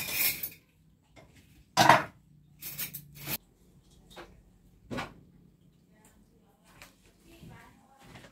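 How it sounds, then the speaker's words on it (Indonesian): Plates and cutlery clink and clatter during dishwashing at home, with scattered knocks and scrapes coming in irregular bursts among quieter stretches. "membantu ibu mencuci piring."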